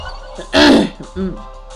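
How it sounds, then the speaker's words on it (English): A single harsh throat clearing, close and loud, followed by a short low grunt, with no other speech. "I'm just having a hard time clearing my throat here."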